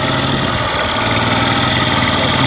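A parking lot line striping machine's engine idles steadily at close range, a loud continuous mid-low rumble with constant vibration and no talking.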